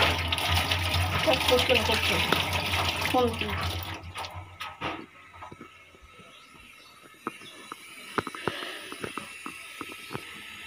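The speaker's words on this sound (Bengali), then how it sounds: "আচ্ছা চামচটা ধুয়ে নিচ্ছে।" A spoon is rinsed under a running tap in a home kitchen, with a gushing stream for about four seconds that then stops, followed by quieter scattered clinks and small knocks.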